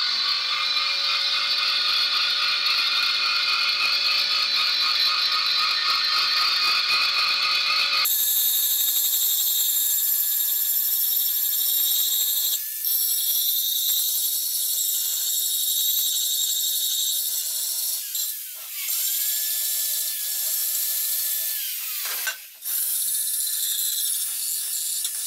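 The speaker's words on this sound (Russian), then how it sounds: "вот я зарядил в дрель бор и начну подготовку бором." A drill fitted with a burr grinds the cracked engine oil pan from a Peugeot, a loud sustained high whine that shifts pitch partway through, dips briefly as the tool eases off, then resumes, with no talking.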